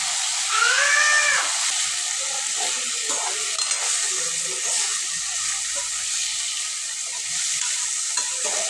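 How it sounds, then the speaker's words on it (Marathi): Cluster beans, capsicum and eggplant stir-fry in hot oil, a steady loud sizzle with scraping and stirring clatter running throughout and a brief high squeal early on. "हे चांगलं व्यवस्थित मिक्स करून घेऊ आणि थोडंसं तेलावर परतून घेऊ"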